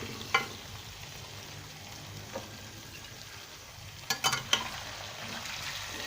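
Fish frying in a pan for a Sindhi fish and potato curry gives a steady, low sizzle, with a few sharper crackles and utensil clicks near the start and in a brief burst toward the end.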